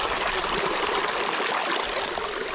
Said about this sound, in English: Gotta take advantage of this high altitude snowmelt water.